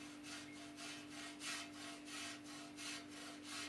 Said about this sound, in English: I like to use this side of the grater to grate the ginger